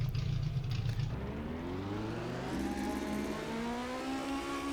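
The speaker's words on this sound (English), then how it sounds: "It's just kind of making motorbike noises." Motorbike-like engine noise from a game vehicle, a steady close whine whose rising, wobbling harmonics climb in pitch after a brief lower rumble, with no talking.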